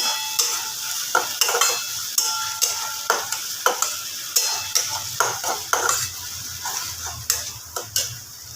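Chicken cooks in a spice paste while a spoon stirs it briskly, producing steady scraping knocks against the pan in a regular rhythm over a continuous sizzle.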